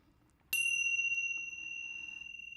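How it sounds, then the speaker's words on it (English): A single bell is struck once during a relaxation breathing exercise, ringing out with a clear, pure tone that lingers and slowly fades in a quiet room. "I'm going to ring the bell."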